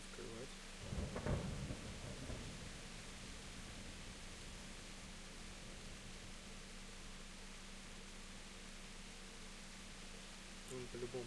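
Steady rain hisses and a low rumble of thunder rolls in the medieval video game Kingdom Come: Deliverance, with a brief louder crackle early on before the downpour settles into an even wash.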